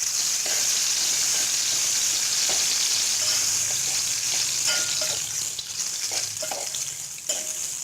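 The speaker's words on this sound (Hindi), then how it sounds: "यहीं पर मैं डाल रही हूँ ये जीरा और राई, दोनों चीज़ मैंने एक साथ डाल दी है।" Cumin and mustard seeds sizzling together in hot oil for a dal fry, with a loud continuous frying hiss and intermittent spoon scrapes and knocks as they are stirred, close up with no talk.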